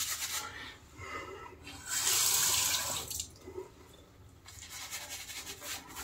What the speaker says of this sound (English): The water is flowing everywhere today.